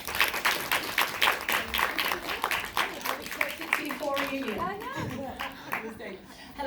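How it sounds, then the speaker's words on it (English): An audience claps in a round of applause at a documentary screening talk with a fashion designer and a director, the clapping thinning out as voices take over toward the end. "can I have a round of applause for Makita"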